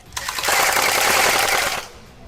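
Rapid automatic gunfire at a close-quarters (CQB) shooting range in Malaysia, a loud dense burst lasting about a second and a half before cutting off abruptly.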